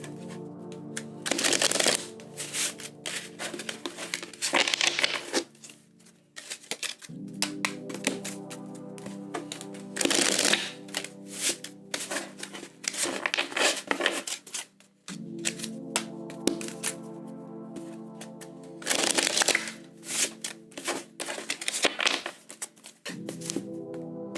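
Tarot cards riffled and shuffled in three bursts of crisp flapping and snapping, with soft tapping and handling between, close up and fairly quiet.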